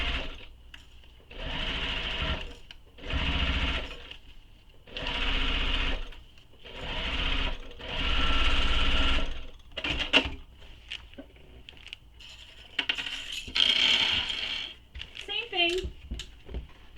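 A sewing machine stitches a handbag seam in several short bursts of fast needle chatter separated by pauses, close and loud, followed by lighter handling clicks and rustles near the end.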